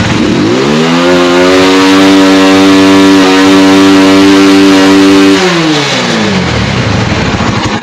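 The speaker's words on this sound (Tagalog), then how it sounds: "Ayun pinigaan natin yung kanyang throttle. Namatay." A Euro 186 motorcycle with a misfiring, stalling engine is revved loudly and held at high pitch for several seconds, then winds down sharply and dies into a rough, sputtering idle.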